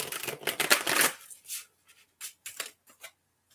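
Close, crisp card shuffling for a card reading: a dense riffle of flicking cards, then a few separate soft slaps and taps as cards are laid down.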